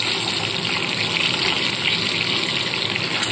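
Boiled eggs dropped one by one into hot oil for an egg curry, a loud, dense, steady frying hiss that fills the whole moment with no speech.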